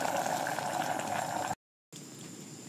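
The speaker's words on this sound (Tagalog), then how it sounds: "At kumukulo na." A pot of milkfish (bangus) dish boiling while cooking: a steady, dense bubbling hiss that drops out completely for a moment, then resumes slightly quieter.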